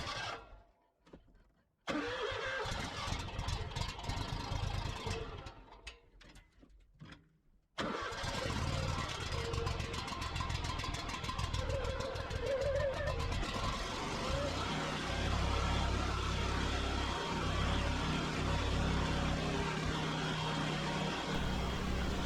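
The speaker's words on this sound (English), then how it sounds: "we're on the Zmaster 6000 series Toro mower, 60-inch deck" A Toro Z Master 6000 series zero-turn mower with a 60-inch deck starts up through a couple of cranking attempts, then catches and runs as a steady, loud, close engine drone outdoors.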